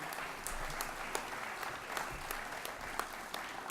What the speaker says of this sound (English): let's give Tony a round of applause